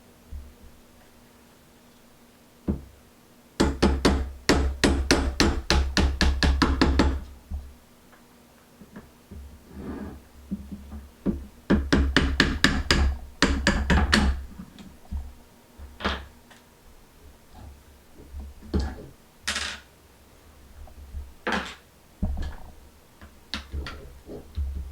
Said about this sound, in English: I'm going to fit this right up on top, smack it a few times with a hammer,